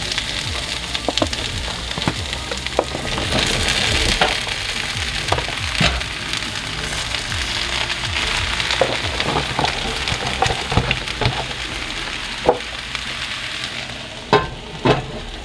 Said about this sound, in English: And now it's time to add the mushrooms.